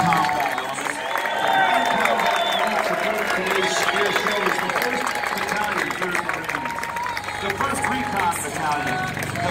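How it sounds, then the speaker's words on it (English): Crowd applause and cheering rise at a Marine Corps event, mixing with a loud announcer's voice over a public address system and general crowd noise. "give a round of applause also for your United States Marine Corps ground combat"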